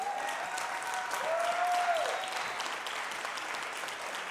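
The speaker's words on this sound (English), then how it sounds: "Let's give her a round of applause." An audience at a school district's State of the Schools address applauds steadily for a parent being recognized, a moderate, even clatter of clapping with a slight swell in the middle and no talk.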